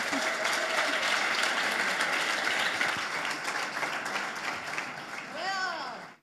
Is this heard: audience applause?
yes